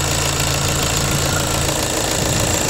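A car engine idles steadily up close, a continuous even rumble with a faint mechanical ticking and no voices.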